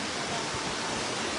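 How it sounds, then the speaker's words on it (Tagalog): Floodwater rushes through a barangay in Lemery, Batangas, a continuous broadband roar with no break, steady and dense, with no voices. "Grabe, napakalakas ng baha. Tumaragasa sa ating barangay."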